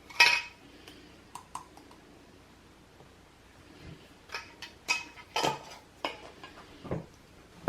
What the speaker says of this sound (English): we're just gonna stir this up loosely